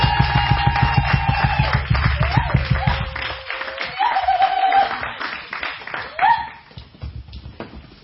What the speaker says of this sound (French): Applaudissons le Seigneur Jésus-Christ de Nazareth.